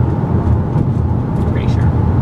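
Steady low road rumble fills the cabin of a moving car, a constant broadband drone with no breaks, loud and close throughout.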